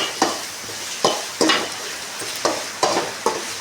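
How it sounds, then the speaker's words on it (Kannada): Spicy chicken frying with onion, ginger and garlic in a hot pan, stirred in a steady rhythm: about six sharp scraping strokes over a continuous close sizzle, with no talking. "ಸ್ವಲ್ಪ ಫ್ರೈ ಮಾಡೋಣ."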